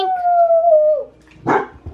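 A pet dog at home gives a single long, falling howl lasting about a second, close and loud, followed by a short bark-like huff and a faint yip.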